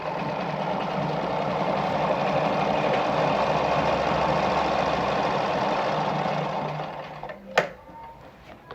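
An Ideal Automatik sewing machine stitches a zigzag at stitch length 2, a loud steady mechanical whir running evenly for about seven seconds before stopping with a sharp click near the end.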